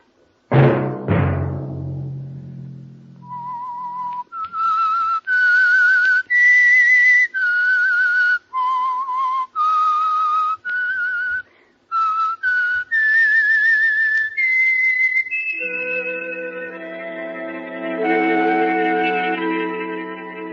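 A person whistles a slow, echoing tune, clear sustained notes rising and falling in phrases, preceded by a sharp ringing chime, the theme of the old radio program The Whistler.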